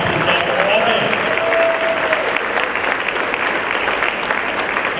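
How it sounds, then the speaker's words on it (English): An audience at a high school spring instrumental concert applauds the staff and bands, steady loud clapping filling the room, with a brief vocal cheer or whistle near the start. "So one more round of applause to the staff for all bands."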